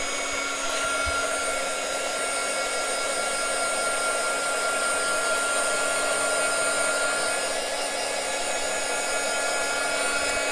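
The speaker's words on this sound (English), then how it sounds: "let's get the speedy heat gun, and I'm going to dry this off" A heat gun blows steadily to dry paint on MDF, producing a constant, even airy whine and roar that holds throughout with no talking.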